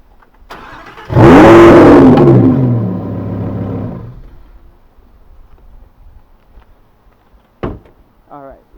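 A Lamborghini Huracan engine revs hard as the car backs up, a loud, close roar that swells and then gradually settles into a lower idle, followed by a few faint clicks and a short mechanical sound near the end.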